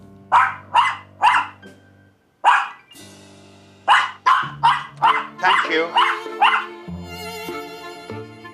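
A dog barks in close, sharp bursts at the door: three quick barks, a pause, then another run of five or six loud barks, with a brief voice over the end.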